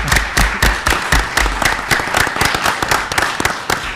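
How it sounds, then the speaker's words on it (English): Applause at a school committee meeting from a small group of people, with sharp distinct claps and a fairly sparse, uneven rhythm. "We'll give you a round of applause."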